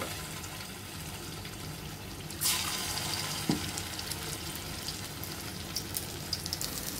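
Rice flour fritter batter drops into a shallow layer of hot oil, giving a steady hiss with a sharper burst of sizzle partway through and small crackles afterward.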